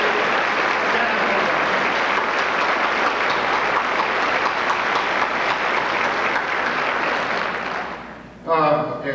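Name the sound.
applause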